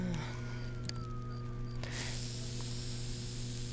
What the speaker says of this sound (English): Go spray those bugs, please.